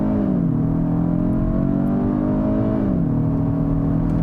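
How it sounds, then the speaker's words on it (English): A Kia Stinger GT-Line sedan launches hard from a brake-torque start with traction control off, its engine note climbing in a loud, continuous rev that drops at a gear change and then builds again. "Still have the traction control off. We'll try brake torquing it again."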